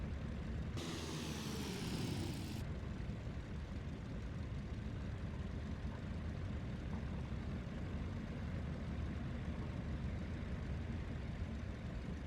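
A CAP-4 Paulistinha taildragger idles steadily after landing in Microsoft Flight Simulator 2024, its propeller engine a constant low drone with a brief higher whine near the start.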